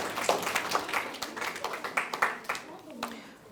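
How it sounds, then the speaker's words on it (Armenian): An audience at a school performance claps in a scattered burst of quick handclaps, moderately near, while a voice talks over it. "եկեք բարձր ծափահարենք և ազդարարենք ներկայացման սկիզբը"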